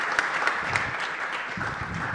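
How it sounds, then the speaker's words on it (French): Audience applause in a lecture hall at the end of a French-language talk on renovation, a steady dense wash of clapping with no voices, holding evenly for the whole stretch. "Vous pouvez les applaudir."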